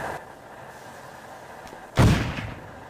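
A single heavy boom of musket or shotgun fire in the Stubbs the Zombie video game, sudden and close with a rumbling tail, after a quiet stretch of background hum.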